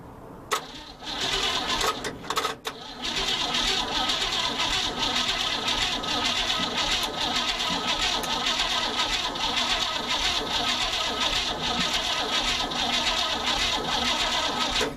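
An old 1958 Chevrolet Napco 4x4 truck's engine starter cranks in a fast, steady whirring churn without catching, continuing for several seconds after a few short attempts.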